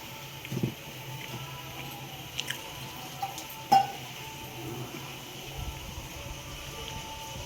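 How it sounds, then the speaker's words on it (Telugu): Dough is mixed by hand with water, stiff like chapati dough. Soft, faint squishing and wet pressing sounds come close up in a quiet room, with an occasional light tap. "కొన్ని వాటర్ పోసుకొని గట్టిగా చపాతీ పిండిలాగా కలుపుకోవాలి"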